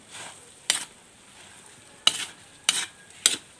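Kinugay being stirred in a cooking pan, with four sharp scraping strokes spaced apart over a faint steady sizzle, close and fairly loud, no voices.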